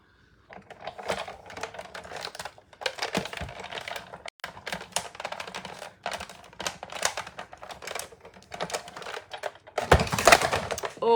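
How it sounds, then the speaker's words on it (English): A die cutting machine presses and cuts small leaf shapes from foil paper, giving a steady run of clicky, crinkly mechanical rattling close by, growing louder and harsher near the end. "I'm just going to die cut one more of these little leafy things because these are so pretty in this foil paper"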